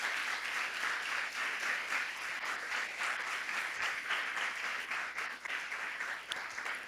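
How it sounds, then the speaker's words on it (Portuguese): Church congregation applauding, a continuous dense wash of clapping from many hands that holds steady throughout, moderately distant and without talk. "Você pode aplaudir a Jesus aí"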